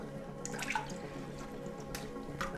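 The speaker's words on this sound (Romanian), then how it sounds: "O să spăl substratul ăsta, o să-l clătesc și o să-l spăl în apa din acvariu" Aquarium substrate being rinsed in aquarium water: soft, close drips and small splashes with quiet trickling, plus a couple of brighter splashes. No talk.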